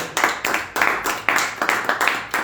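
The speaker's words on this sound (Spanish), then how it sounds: "Fuerte el aplauso al Señor" A church congregation claps in praise during a Spanish-language sermon, giving a dozen or so loud, uneven bursts of hand claps in a quick rhythm that rises and falls over a couple of seconds.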